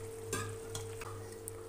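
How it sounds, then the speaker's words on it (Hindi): Boiled lentils are stirred into wilted spinach in a pan for dal palak, giving a few faint scraping and sloshing strokes over a low, steady background hum. "दाल और पालक को अच्छे से मिक्स कर लेंगे।"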